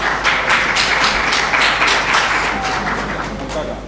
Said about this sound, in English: Your clap will tell us.